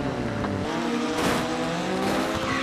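Diecast toy trucks, a red one and a blue one, race down a track in a steady rolling, whirring rush, with rising swells and scraping squeal-like accents near the middle and end, loud and continuous with no talk.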